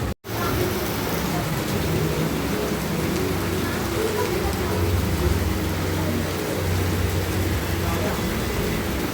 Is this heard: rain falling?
yes